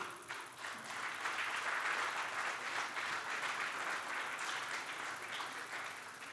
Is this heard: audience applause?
yes